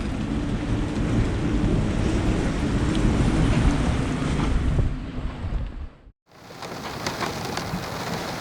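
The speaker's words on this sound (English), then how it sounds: "a little bit of wind." Steady wind rushing around a 45ft sailing boat, a broad continuous roar with gusty surges, a sudden brief dropout near the end before the blustery noise resumes.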